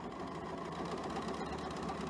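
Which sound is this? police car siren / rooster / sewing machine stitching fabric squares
sewing machine stitching fabric squares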